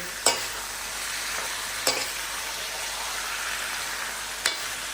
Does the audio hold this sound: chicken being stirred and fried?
yes